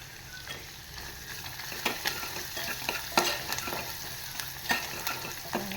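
Wet fresh coriander (cilantro) dropped into hot oil tempering for surnachi bhaji (elephant foot yam curry) crackles and sizzles steadily, with scattered sharp pops and stirring scrapes, close and moderately loud, with no talking.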